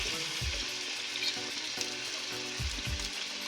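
Fuchka puris deep frying in hot oil, a continuous bright sizzle with occasional low thumps and knocks of utensils, close and loud, with no talking.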